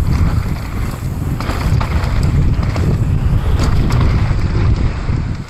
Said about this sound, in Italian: Ma che vento!